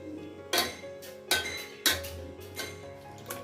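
Cooked tomatoes mashed in a pot, a few soft squelching presses with utensil scrapes and light clinks against the pot at a slow rhythm, close and quiet, no talking.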